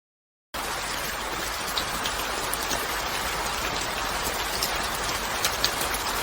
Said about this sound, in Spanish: Ay, esta lluvia no para.